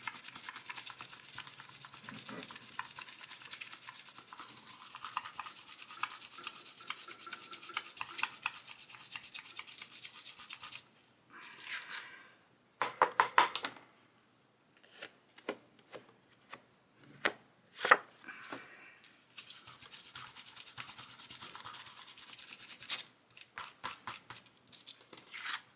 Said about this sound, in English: kind of stiff brush and brush off all that excess